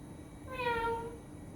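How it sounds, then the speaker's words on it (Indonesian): A single cat meow, drawn out with a rising then falling tone, sounds close and clear over a faint background hum. "Mimi, dalam bahasa kucing, Mimi berkata, meow, hiks, hiks. Mimi kan kucing"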